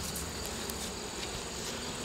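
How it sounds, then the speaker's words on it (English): A colony of honeybees drones in a steady, close buzzing hum around a crawling queen, continuous insect whir with no talking. "So right here I actually have found my queen bee."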